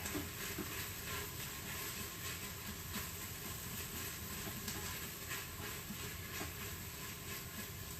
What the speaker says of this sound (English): as soon as this is finished, with these veggies, searing in here